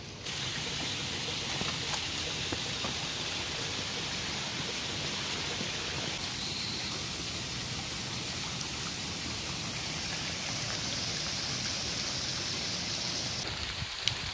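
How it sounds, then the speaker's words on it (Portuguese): Steady rain falls on a forest lookout trail up to Cristo Redentor in Rio de Janeiro, a constant close hiss of drops on foliage and ground that runs alone without a break, at an even level throughout. "Começou a chover agora, ó."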